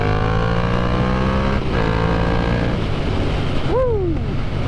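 Yamaha MT-07 motorcycle fitted with an upgraded exhaust, revving hard and accelerating up through the gears, a loud, steady engine drone with rising pitch sweeps and a brief gear change near the end.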